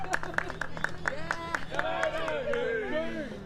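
A cheer squad on the sideline of a university ultimate frisbee match claps in a quick steady rhythm while voices shout and sing along, close and lively.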